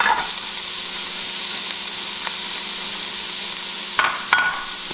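Onions fry and sizzle in a pot as the base for an Irish Guinness stew, a steady close hiss with a couple of brief stirring scrapes near the end.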